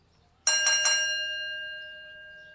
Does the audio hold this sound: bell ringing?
yes